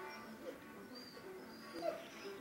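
A small dog whimpers softly in a quiet room, faint high whines rising briefly near the end, with low background noise and no clear talk.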